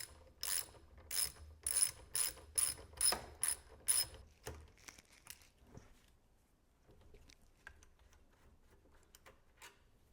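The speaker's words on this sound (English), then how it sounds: "Now we're going to take these two bolts out here." A ratchet clicks in a quick run of about eight sharp, evenly spaced bursts while bolts are backed out of an RCBS Pro Chucker 7 reloading press, followed by a few faint scattered clicks and near silence.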